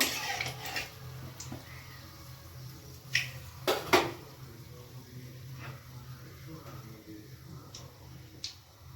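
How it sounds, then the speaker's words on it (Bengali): A spoon stirs food gently in a cooking pan over a high gas flame, making faint scrapes and a few sharp clinks against the metal over a low, steady hum. "এবার একটু হালকা করে নাড়বো ফ্লেভার আনার জন্য"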